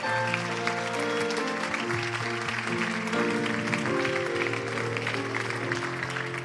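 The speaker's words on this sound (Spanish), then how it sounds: "Vamos a dar ese aplauso al Señor." A church congregation applauds during a bilingual Spanish and English service, steady clapping blending with a sustained musical backdrop at moderate level throughout.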